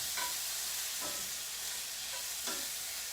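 Steak pie meat browning in a pan, a steady soft sizzle throughout with a few brief stirring scrapes, fairly quiet and with no talk.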